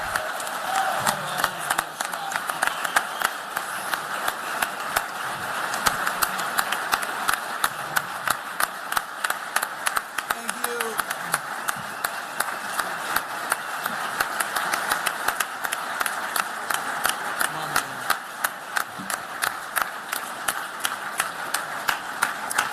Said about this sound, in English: One more big round of applause for the head coach of Utah football, Morgan Scalley.